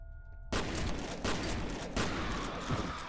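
A video game weapon unleashes rapid fire that starts abruptly after a brief quiet moment, then pounds on as a loud, continuous volley with periodic heavier surges, free of speech.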